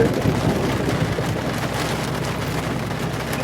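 Steady, dense hiss of rain falling without pause, a broad wash of noise filling the whole clip with no voices.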